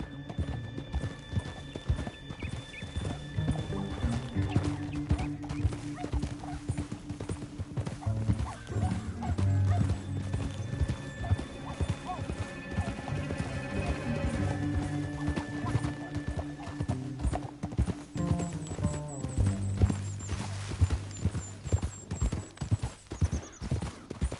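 Horses gallop in Red Dead Redemption 2 with a steady, close clip-clop of hooves running through the whole stretch, and a few whinnies break through over the layered game sound.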